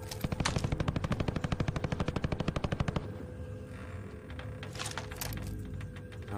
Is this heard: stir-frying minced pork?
no